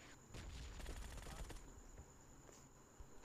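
A quick string of Groza rifle shots in PUBG Mobile rattles off in a short burst, then fades to a quieter game background with a faint steady tone, with no talking.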